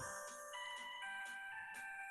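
After a QR code is scanned, a phone faintly plays a tinny, chiming melody, a repeating electronic tune heard from a distance.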